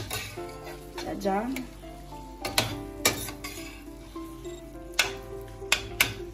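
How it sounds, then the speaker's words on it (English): Shrimp Alfredo with penne pasta is stirred in a sizzling pan, with a steady fry hiss and repeated sharp clinks of the utensil against the metal. A voice speaks briefly over it. "So now we're going to stir it all together."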